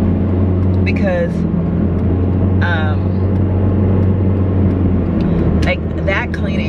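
A car's engine and road noise hold a steady, loud drone while it drives, and a person talks over the hum throughout.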